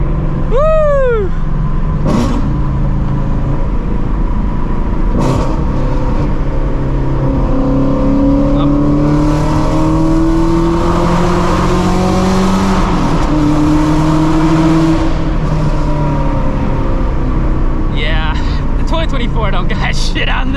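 A supercharged Shelby GT350 Mustang with its Voodoo engine revs loudly nearby in long, sustained pulls that rise and fall, with voices underneath.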